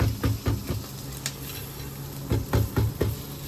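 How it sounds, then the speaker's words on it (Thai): Food stir-fried in a fast-heating pan over a steady sizzle, with rhythmic scraping strokes of a spatula against the pan in short clusters, close and clear, with no talking. "ก็ผัดไปเรื่อย"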